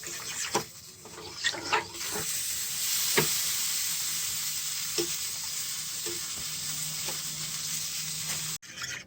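A homemade creamy mac and cheese sauce in a pot, stirred to break up flour clumps: a steady sizzling bubble runs throughout, broken by repeated scraping strokes of the utensil, close and fairly loud.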